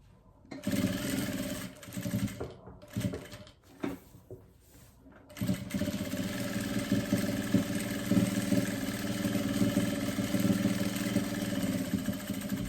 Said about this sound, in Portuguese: Chegou aqui, ó, onde eu comecei a costura, dou o retrocesso e termino.